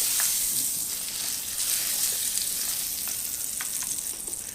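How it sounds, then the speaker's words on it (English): Butter sizzling on a preheated waffle iron, a steady crackling hiss with small pops, close and fairly loud throughout. "I'm going to go ahead and grease that just a little bit with a little bit of butter"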